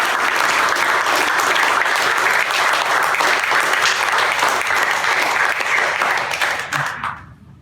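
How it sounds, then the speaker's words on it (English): The crowd at a poetry reading and magazine launch in Rutherford, New Jersey, gives a poet a big, sustained round of applause. The dense clapping holds loud and even for several seconds, then dies away quickly near the end. "why don't you give him a big round of applause"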